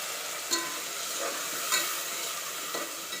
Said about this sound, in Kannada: ಈರುಳ್ಳಿ ಎಲ್ಲ ಚೆನ್ನಾಗಿ ಫ್ರೈ ಆದಮೇಲೆ ರುಬ್ಬಿಟ್ಕೊಂಡಿರೋ ಮಸಾಲೆನ ಹಾಕ್ಕೊಳ್ಳೋಣ.